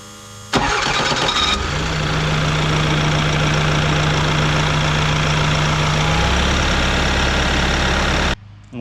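Diesel engine of a Bobcat T595 skid steer cranks briefly, catches with a loud burst, then settles into a steady, rumbling idle that drops lower near the end before cutting off abruptly.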